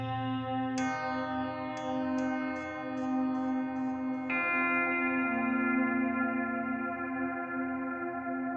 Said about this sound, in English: That's some reverb right